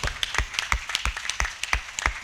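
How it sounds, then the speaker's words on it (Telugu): Applause from an audience at a birthday celebration in Vemagiri, with irregular individual claps popping out close by in an uneven, scattered rhythm for a couple of seconds. "అలాబక్ష గారు గట్టిగా క్లాప్స్ చేసుకుందాం"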